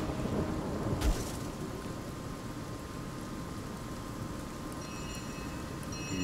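Thunder jump spell in Divinity: Original Sin, a sharp crack near the start followed by a long, loud, rolling rumble that holds steady to the end.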